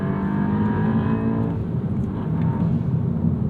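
2024 Volkswagen GTI 380 S, front-wheel drive, with a throaty, steady engine roar held at high revs, close and loud throughout with no speech.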